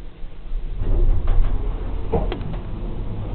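A Kone hydraulic elevator's doors slide shut in a Holiday Inn in Frisco, Texas, a close rumbling glide ending in a soft thud and faint clicks.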